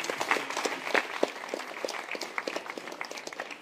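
Faint, scattered audience applause at a tech meetup talk on game development, irregular hand claps from a modest crowd, fairly distant and steady, with no talking over it.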